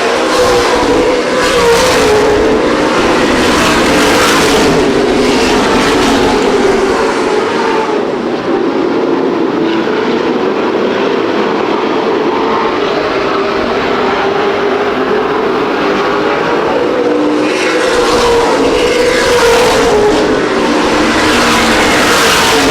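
Late model stock cars race around Winchester Speedway in a CRA Late Model Sportsman event, a continuous loud roar of engines that swells and recedes as the pack passes, with a brief lull midway.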